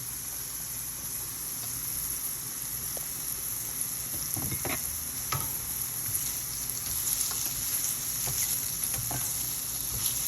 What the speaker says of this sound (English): I did a rough chop on these mushrooms, and I put them in the pan